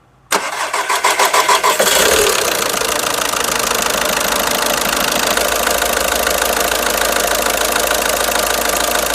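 A car engine cranks in a short rapid series of turns, then catches and settles into a loud, steady running drone close by, with a faint knocking texture; the engine is suspected of possible seizure.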